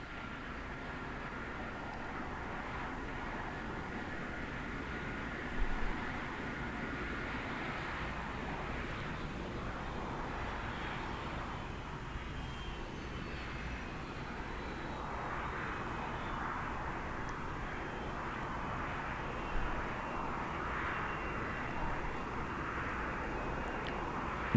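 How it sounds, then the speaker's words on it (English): Shuttle Carrier Aircraft, a large jet airliner, arriving at the Shuttle Landing Facility at Kennedy Space Center, its engines a steady loud roar that holds throughout, with no voices. "this is the first step with the arrival of the Shuttle Carrier Aircraft here to the Shuttle Landing Facility"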